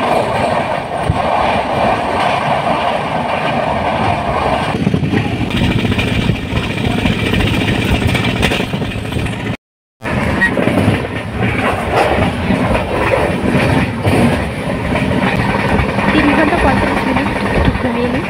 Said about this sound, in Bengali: ট্রেন কিন্তু ছেড়ে দিল একেবারে রাইট টাইম, 8:55-তে ছেড়ে দিল ট্রেন